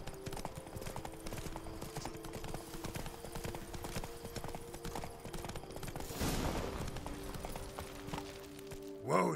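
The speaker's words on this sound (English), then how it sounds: "Whoa there, Roach" Horse hooves clip-clop at a steady walking rhythm under a music bed in The Witcher 3: Blood and Wine, with a brief louder swell near the end as the horse is reined in.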